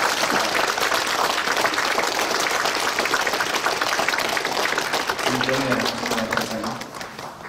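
A church congregation at a retirement and ordination service gives steady, continuous applause that fills the hall, with a voice speaking faintly beneath it as the clapping tapers slightly near the end.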